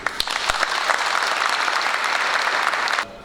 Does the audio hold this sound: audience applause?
yes